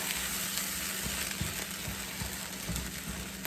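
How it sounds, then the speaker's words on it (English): Ingredients sizzling and frying in a pan while being stirred together for a simple budget meal, with a steady crackle throughout and faint scraping taps of the utensil, close and fairly loud. "I'm going to stir this together first."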